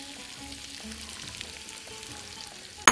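Onions frying in olive oil, a low, even hiss held beneath quiet background music, followed by a sharp clatter at the very end.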